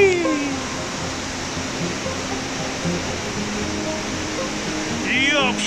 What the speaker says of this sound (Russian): там впереди водопад